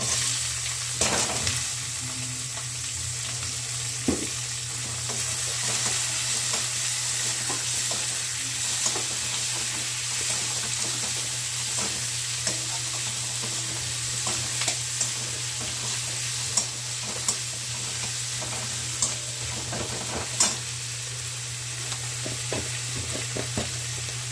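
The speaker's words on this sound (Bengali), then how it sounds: "এর ভিতরে কুচি করে রাখা পেঁয়াজটা দিয়ে দিচ্ছি" Chopped onion frying in oil in a pan, a steady loud sizzle throughout with occasional clinks and scrapes of a spoon stirring, no voices.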